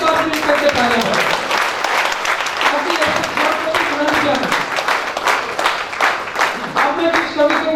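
Audience at a patriotic Hindi poetry recital claps together in a loud, sustained burst of dense applause, with brief voices mixed in over the clapping.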